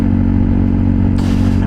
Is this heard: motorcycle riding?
yes